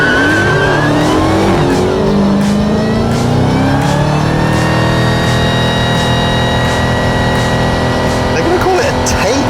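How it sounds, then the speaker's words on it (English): A Dodge Hellcat does a burnout: a loud, close engine revs and howls continuously with a rising and falling pitch, tire squeal layered in, while people shout and talk over it. "show me what that Hellcat's got. You're gonna burn for 30 seconds."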